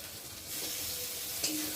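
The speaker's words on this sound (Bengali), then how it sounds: "দেখো বন্ধুরা, বেশ মশলাটা ভালোভাবে ভাজা হয়ে গেছে" Spice paste with turmeric, salt, chili powder and chopped tomato frying in a pan makes a soft, steady sizzle and hiss that swells partway through, with one brief clink near the end and no talking.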